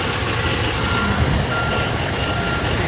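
A truck backing up gives off a steady, repeating reversing beep over a constant low engine rumble, close by and with no talk.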